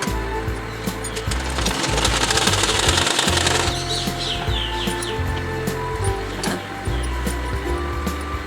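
A sewing machine stitches half-inch tucks into a blouse, giving a loud, rapid mechanical rattle that runs almost continuously, with brief breaks in the rhythm, and no talking.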